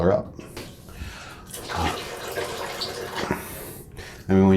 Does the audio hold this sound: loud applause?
no